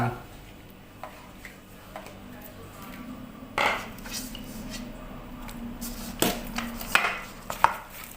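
A knife slices boiled pork offal into bite-size pieces for pork larb, giving a run of sharp, uneven taps against a board at close range over low background noise.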